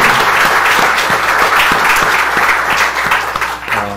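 A church congregation claps loudly and close by in a thick, continuous round of applause that tapers near the end as a voice briefly begins.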